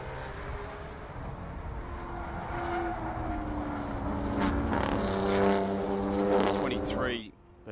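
BMW production race cars circuit racing in the Sydney 240, several engines droning and rising in pitch as they close in and pass, growing louder before cutting off abruptly near the end, with commentary running over them.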